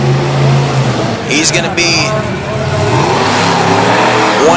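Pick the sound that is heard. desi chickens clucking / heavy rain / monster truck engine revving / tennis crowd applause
monster truck engine revving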